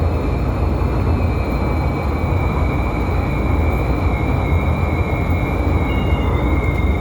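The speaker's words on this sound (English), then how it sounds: "This is a Brown Line train to Kimball." Chicago CTA Brown Line car 3398 rolling along the rails, a steady loud rumble of wheels and motors with faint high whining tones running through the whole stretch, no voices.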